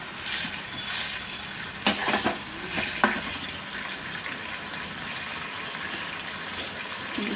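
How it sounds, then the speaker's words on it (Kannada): Gojju, a tangy sauce seasoned with turmeric, simmers on a low flame in a pan with a steady watery bubbling hiss, broken by a few sharp clinks of stirring around the middle. "ಈಗ ಗೊಜ್ಜು ಕುದೀತಾ ಇದೆ"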